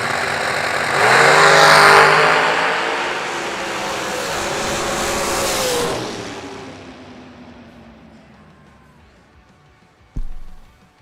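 A brand-new Folk Race Cars dragster launches down the drag strip at the Million Dollar Race, its engine swelling into a loud, roaring howl, then holding and fading as it pulls away, with a sharp bang near the end.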